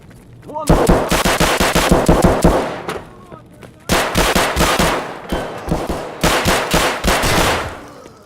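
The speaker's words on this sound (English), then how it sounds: "the gunshots are down that way" Rapid bursts of automatic gunfire in sharp, rattling volleys, separated by brief pauses, loud and close with a game-like punchiness, from the video game Escape from Tarkov.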